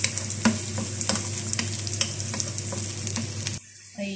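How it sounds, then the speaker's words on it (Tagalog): Onions sizzle steadily in a frying pan, a bright continuous crackle with regular scrapes and taps of a spoon stirring, close and clear, ending abruptly near the end. "Ilalagay ko na rin ang onion. Ayan, marami."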